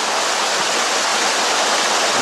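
Water in a Rhine river stream splashes and rushes during gold prospecting, giving a dense, steady roar that fills the whole clip, close and loud with no voices.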